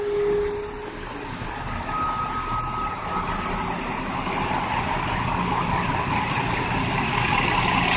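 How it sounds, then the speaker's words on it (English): Heavy idling engines and hissing air brakes as many city buses are staged along Bergen Street, with a steady outdoor rumble, bursts of louder engine noise and a high whine over the traffic. "Tons of buses being staged along Bergen Street."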